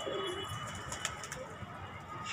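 A wild pigeon coos faintly near a rooftop nest, a short low call set against a steady hiss of background noise.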